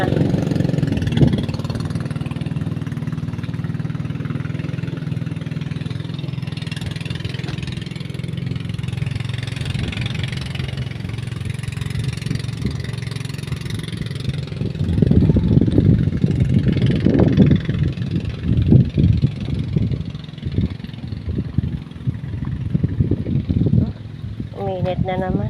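A motorcycle engine idles steadily, then grows louder and rougher midway, with voices speaking nearby over the running motor outdoors on a hunting trip.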